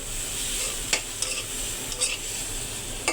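Fresh coriander leaves sautéing lightly in a pan alongside ground chili, onion and garlic paste, a steady soft sizzle with a few sharp spatula scrapes and clicks scattered through, close and alone without any voice.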